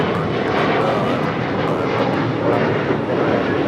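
A passenger airplane roars past at Los Angeles International Airport, a loud, steady engine rumble sustained throughout without talk.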